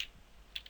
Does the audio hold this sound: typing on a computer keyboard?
yes